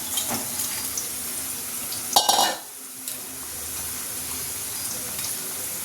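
Fried pomfret fish pieces go into a simmering fish curry, a loud close sizzle and splash bursting over the steady bubbling hiss of the pan before it settles back to a quieter simmer.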